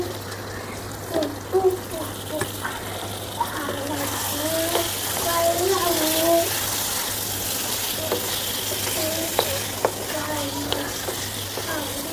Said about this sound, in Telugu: తొందరగానే ఫ్రై అయిపోతాయి.